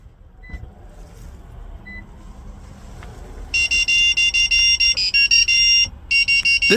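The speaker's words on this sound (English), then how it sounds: "wait for a few seconds until you hear the beeping sound indicating programming is successful" A 2015-2016 Scion FR-S beeps during key fob programming: a steady run of loud, rapid electronic tones starts partway through and repeats with short gaps, following a quiet, low background.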